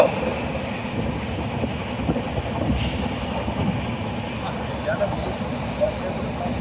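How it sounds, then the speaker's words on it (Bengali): The Padatik Express runs fast from Sealdah toward New Jalpaiguri, giving a steady low rumble and faint rattling while strong wind buffets the microphone; people talk faintly under the noise. "ভীষণ হাওয়া দিচ্ছে, ট্রেন তো ছুটছে বিশাল"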